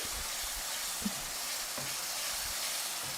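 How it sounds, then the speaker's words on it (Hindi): Boiled peas frying with spices in a pan for a cauliflower and pea curry: a steady, close sizzle with a soft scrape now and then from stirring, with no talking. "तो यहाँ पे देखिए मटर डाल के हमें इसको अच्छे से भून लेना है।"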